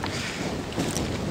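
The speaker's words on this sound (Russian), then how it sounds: "Ох, ветер какой!" Strong wind on a lake roars and buffets steadily against the microphone during fishing, a loud broadband rushing noise with no voices.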